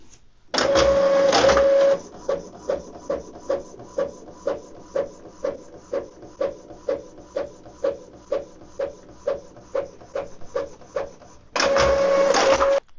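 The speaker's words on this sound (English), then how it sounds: "just click on print and wait for the paper" An Epson EcoTank L3270 inkjet printer prints a page, opening and closing with longer whirring mechanical runs. Between them comes a long, even series of rhythmic clacking print-head passes, close and clear with no voices.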